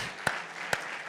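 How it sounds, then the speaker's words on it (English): Applause from an audience at a programming contest closing ceremony, a steady broad clatter of clapping with two sharper accents, fairly distant and filling the short moment. "Like a big applause for our team"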